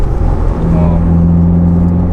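A VW Mk7 GTI with an aggressive catback exhaust heard from inside the cabin, a loud steady low drone and rumble that rises slightly in pitch as the engine pulls.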